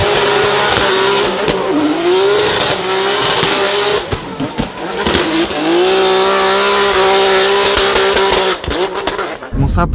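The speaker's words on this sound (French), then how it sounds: "qu'est-ce que c'est que le drift? Le drift c'est ça." A drift car sliding hard through a turn on a mountain road, its engine revving loud and steady while the tires squeal long and high, with brief dips before the screech climbs again; voices are faintly heard under it.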